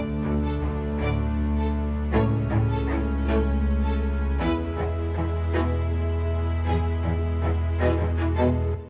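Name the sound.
string section in a song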